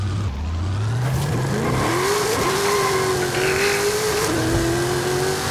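Chevrolet Impala Super Sport on a rear-wheel-drive drag tune with 1700 horsepower in Forza Horizon 5, its engine revving and climbing steadily in pitch through the gears, loud and continuous with no talking over it.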